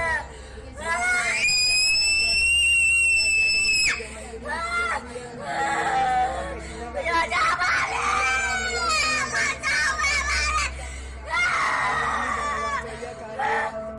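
A child screams and wails in a harsh, high pitch, with repeated drawn-out cries over steady low background hum and some mixed voices, loud throughout.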